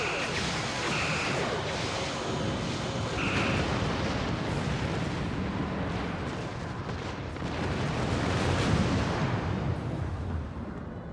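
Torpedoes strike a target in the video game Star Trek Online, rumbling explosions and booming impacts rolling continuously over about eleven seconds, swelling louder near the end, with faint game tones early on.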